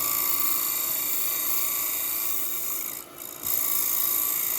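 A small half-inch scraper shaving a tight bend on a spinning wooden piece, a steady close, hissing scrape that briefly lifts and dips before resuming at full strength.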